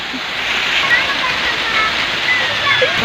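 Steady rushing water, like a stream or small waterfall, fills the clip with broad continuous noise, while a person talks faintly beneath it.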